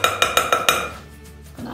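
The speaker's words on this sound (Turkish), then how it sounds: "Ben sıçramaması için onu şöyle bir karıştıracağım." Quick series of five sharp clinks as a utensil scrapes and taps around a bowl while stirring flour into cake batter, close and loud, then fading to a soft swishing stir.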